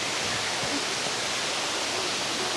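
A waterfall with a weak current gives off a steady, even hiss of falling water, continuous and unbroken, with no voices.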